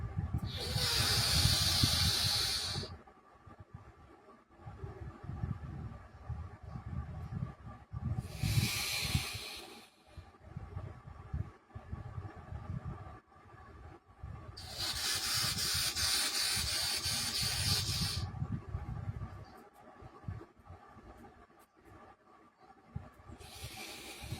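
Nadi shuddhi alternate-nostril breathing: long, close, airy hisses of breath through the nose, each lasting a few seconds, are separated by quieter pauses. No speech is heard.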